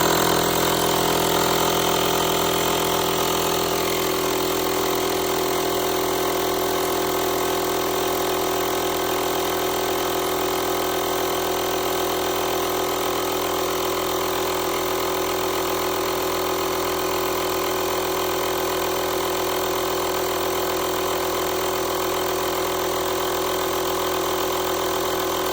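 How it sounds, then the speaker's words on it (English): A Lokithor JA300 portable jump starter's built-in air pump runs continuously, a loud, steady mechanical drone with a rapid buzzing rattle, close by and unchanging throughout. "We're gonna hit pump, press and hold."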